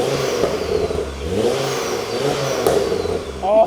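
A modified hot hatchback engine revs hard through a rattly exhaust, rising and falling in pitch, loud and close for a few seconds.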